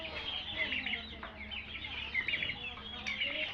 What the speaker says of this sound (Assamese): এইবিলাক চীন মুৰ্গী, এইবিলাক কৰকনাথ